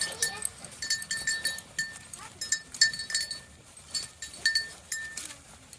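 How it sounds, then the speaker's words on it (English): Goats bleat repeatedly in short, high calls close by, mixed with light clinking and scattered movement noises, no talking. "Come on, goats."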